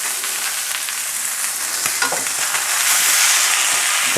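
Meat browning in a pot on a stove turned to its highest heat for pot roast, giving a steady, loud sizzling hiss with crackles and occasional stirring scrapes, no voices.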